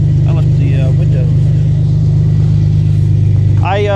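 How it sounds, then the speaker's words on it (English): A 31-year-old pickup truck's engine idles steadily as it warms up, a constant low rumble running throughout with brief voice-like sounds over it. "while the truck's getting warmed up"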